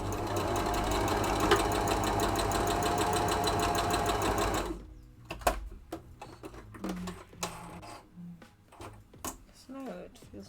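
A sewing machine stitching shorts runs in a fast, close, rattling burst for about five seconds, then stops, followed by scattered clicks and handling noises with a person talking.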